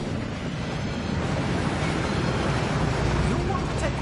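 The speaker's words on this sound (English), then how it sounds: "That waterfall washes away all enchantments." A waterfall in the video game Hogwarts Legacy makes a steady, full rushing roar of falling water that stays constant throughout.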